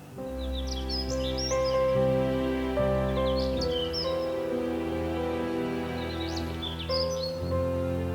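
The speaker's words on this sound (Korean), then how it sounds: "완전 예쁜 새소리가 납니다." Several short bursts of bird chirping at intervals, fairly distant, over a steady low hum with no talking.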